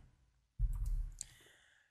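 A single computer keyboard key press, a short clicky tap with a faint rattle and decay, heard alone and fairly quiet while working in Blender.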